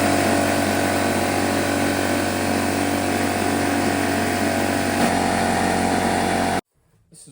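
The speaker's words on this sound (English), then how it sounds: "I'm going to fire up my pancake compressor and let you hear the difference." Pancake-style air compressor running, a loud steady motor and pump drone held close for several seconds before it cuts off abruptly into near silence.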